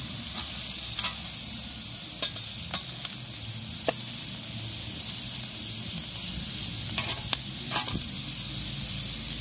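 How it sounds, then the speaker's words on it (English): Chorizo and pork chops frying on an outdoor griddle, with a steady close hiss of sizzling fat and scattered light clicks and scrapes of stirring throughout, no talking. "we're gonna go fry these up with the chorizo on the grill outside"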